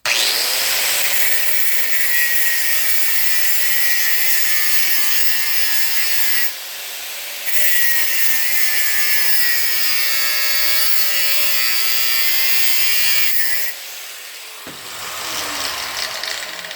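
A grinder cuts off the excess of a stripping pad, a steady high whining buzz that holds for long stretches with a gradually shifting tone, broken by two short changes in pitch and load.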